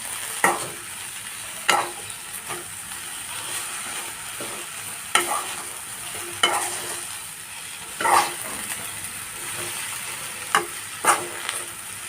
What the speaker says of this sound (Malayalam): ഇനി ആവശ്യമുള്ള ഉപ്പ് ഇട്ട് കൊടുക്കാം കേട്ടോ ഇളക്കി കൊടുക്കും